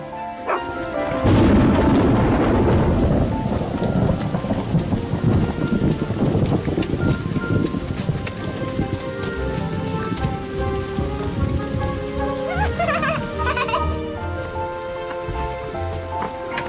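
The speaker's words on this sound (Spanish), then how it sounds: "Se acerca una gran tormenta." A heavy thunderstorm on a cabin setting, with steady loud rain pouring throughout and rumbling thunder rolling underneath, building early and lingering, with a few sharper cracks near the end.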